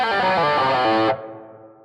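Distorted electric guitar plays a harmonized fill, a dense run of quick notes lasting about a second before being cut off, leaving a fading ringing tail.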